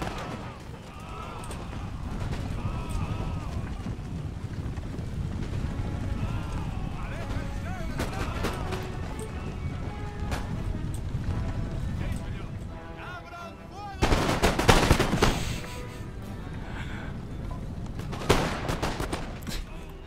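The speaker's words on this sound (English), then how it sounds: "That's pretty devastating artillery fire." Artillery and musket volleys in Empire Total War rumble as continuous distant battle noise, with a louder, denser burst of firing in the latter part, heard under ongoing game ambience.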